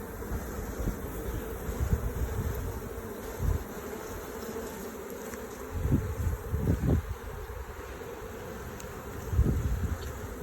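Honeybees buzz steadily during a beehive inspection, a dense, close hum with occasional louder passes as individual bees fly near, and no talking.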